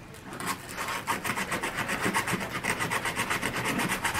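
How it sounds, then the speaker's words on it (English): Sandpaper rubbed back and forth on a wooden slot of a homemade slide copier, a rhythmic rasping scrape repeating about five times per second, close and fairly loud, no voices. "you will have to help it out a bit using some sandpaper"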